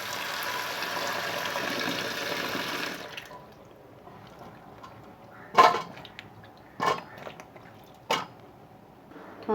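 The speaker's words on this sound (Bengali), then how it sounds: "এখানে আমি পটলটা একটু ধুয়ে নেবো" Pointed gourd (potol) is rinsed in water in a kitchen: a soft steady run of water at first, then quieter with a few short splashy sloshes spaced a couple of seconds apart.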